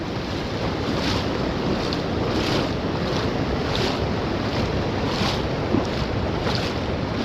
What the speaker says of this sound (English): Water's flowing pretty good.